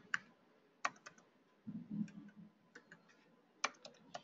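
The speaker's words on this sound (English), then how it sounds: "directly the moment I am typing here, 3 letters I am typing" Sparse, quiet clicks of individual keys on a computer keyboard, with a short cluster of softer taps in the middle, recorded close and without speech.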